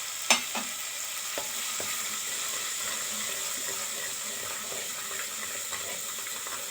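Crushed garlic fries in a pan with a steady bright sizzle, close and continuous, broken by a few sharp utensil clicks and stirring scrapes near the start.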